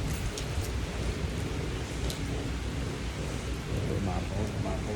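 Heavy rain falls in Dubai in 2025 as a steady, dense roar of rainfall that stays loud and unbroken throughout, with no voices heard.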